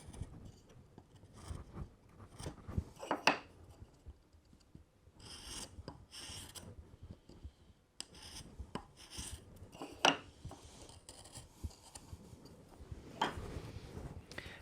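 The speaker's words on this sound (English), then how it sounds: "I'm just going to chamfer the top of this tenon." Hand tool chamfering the top edge of a wooden tenon, a faint, irregular series of rasping, scraping strokes with small clicks between them, close and quiet.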